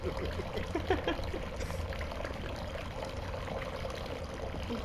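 Water pours and trickles steadily while bathing in the video game Fears to Fathom Scratch Creek, a constant close splashing rush with a few brief higher clinks over it.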